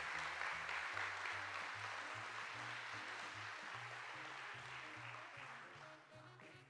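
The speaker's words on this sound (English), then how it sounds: "Please give them a round of applause" Applause at a high school hall of fame ceremony honors the students and teachers who catered the meal. Steady, dense clapping fills the room, with a low tonal hum underneath, and thins slightly toward the end.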